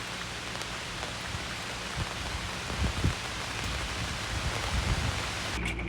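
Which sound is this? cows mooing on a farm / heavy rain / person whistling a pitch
heavy rain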